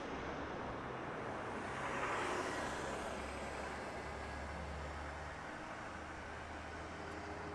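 Distant, faint roar of a Spirit Airlines Airbus jet landing on the runway at Las Vegas airport, a broad steady wash of engine noise that swells slightly then eases.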